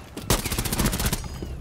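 A burst of rapid gunfire in a competitive video game rings out sharply for about a second, loud and close, then trails off.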